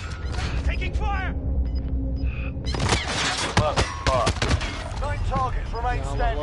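Rapid gunfire in a multiplayer shooter on PS4, loud bursts and shots cracking close by amid clattering game effects, with players talking over the action.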